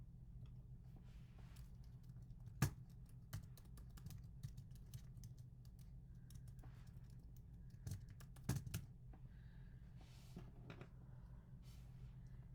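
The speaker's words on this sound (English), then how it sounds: "I'll type it in." Someone types on a computer keyboard with quiet, irregular key clicks and a few louder taps over a low background hum.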